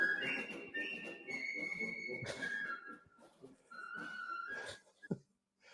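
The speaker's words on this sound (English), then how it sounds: "No idea why we started whistling that" People whistle a tune together, sustained wavering notes with breathy bits and a pause in the middle, close and fairly quiet, ending in a short click.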